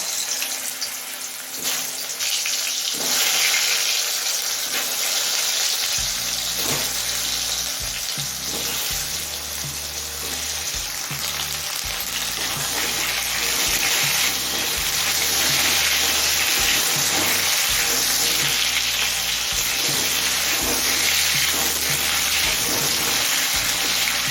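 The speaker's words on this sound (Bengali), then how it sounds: "এবার আলুগুলো ভেজে নেবো" Pieces of elephant foot yam fry in hot oil seasoned with salt and turmeric, giving a loud, continuous sizzle with stirring and scraping throughout, over music.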